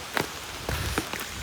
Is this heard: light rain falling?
yes